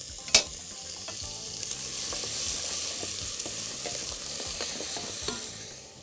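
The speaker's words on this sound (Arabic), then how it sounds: "هاخد كل البصل المفروم دوت واروح نازل بيه كده" Chopped onion frying in a hot pan gives a steady close sizzle, with a sharp clatter at the start and scattered small scrapes and taps as it is stirred, and nobody speaks.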